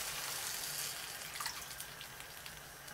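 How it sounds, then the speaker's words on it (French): Coconut juice poured into a pot holding pork and fish sauce for Vietnamese caramel pork (thịt kho tàu); a brief, steady liquid pour, fairly soft and close, with no talking. "J'incorpore le jus de coco,"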